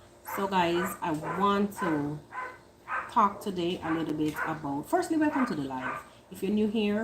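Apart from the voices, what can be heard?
neighbours' dogs barking in the background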